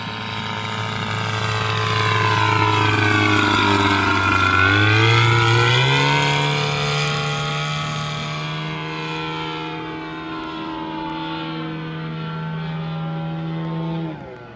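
A DLE-222 gas engine on a Robart RC P-47 model plane drones loud and steady in flight, its pitch dipping and then rising as it passes, before holding a strong, even buzz with no voices.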